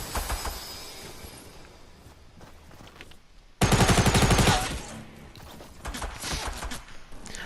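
Gunfire in the Fortnite battle royale game: scattered shots at first, then a loud rapid automatic burst of about a second, followed by further lighter shooting, with no talk.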